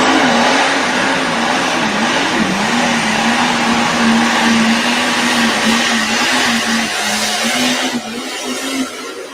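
A diesel pulling tractor at the Dodge City pull roars continuously, a loud sustained engine drone with a wavering pitch, heard as played-back footage that drops slightly in level near the end.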